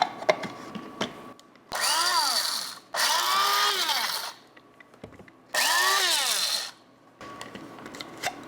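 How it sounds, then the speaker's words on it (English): An electric spice grinder whirs through whole cumin seeds in three loud, steady bursts of a few seconds each. Its motor pitch swoops as it spins up and down, separated by quiet gaps with light clatter. "Okay, freshly ground cumin seed."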